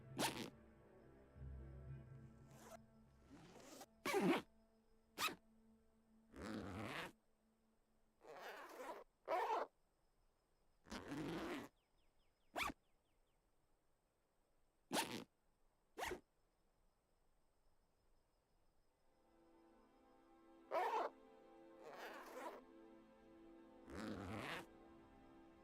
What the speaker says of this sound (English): Okay, and then I think we might have like a zipper